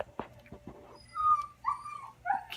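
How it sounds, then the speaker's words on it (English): A dog whines and yips inside a crate, a run of thin rising whimpers and short squeaks close by, with quiet room noise around them and no talking. "I apologize if you can hear the dog whining in the background."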